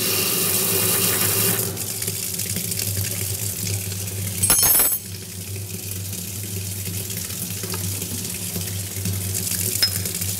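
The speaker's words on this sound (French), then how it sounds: "Donc on va ouvrir le robinet." Water runs steadily from a lab tap over a low machine hum, with a brief louder splash midway through.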